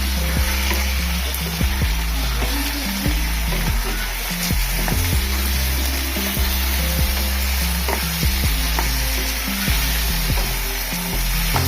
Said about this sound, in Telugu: ఇది కూడా బాగా వేయించుకున్నాము రొయ్యలు కూడా